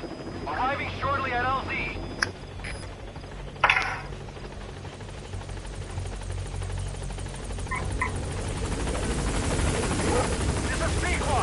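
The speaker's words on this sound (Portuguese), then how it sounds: "Agora veio o helicóptero buscar." A helicopter arrives for a pickup, its rotor and engine a steady low drone that grows slightly louder over time, with scattered talk and a few sharp knocks.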